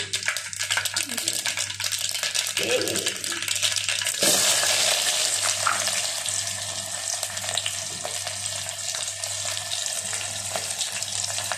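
Onions tossed into hot oil with mustard, fenugreek and cumin seeds. A steady crackling fry jumps to a loud, hissing sizzle once they land, then settles into continuous frying.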